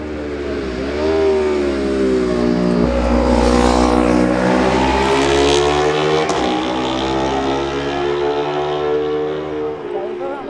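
Racing motorcycles, a Yamaha followed by a Kawasaki, scream past at the Manx Grand Prix newcomers race at Ballacraine, engine pitch rising and then dropping as they sweep by, loud and near, with commentary throughout.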